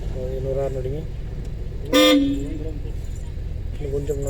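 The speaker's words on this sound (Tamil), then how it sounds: "இன்னொரு ஹார்ன் அடிங்க." A car horn sounds in a short sharp blast during a driving lesson, over a low steady engine hum. Voices talk before and after the horn.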